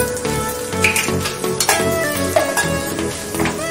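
Ground garlic, chili and ginger paste hits a hot pan with a steady close sizzle and light stirring scrapes over the whole short stretch, no voices.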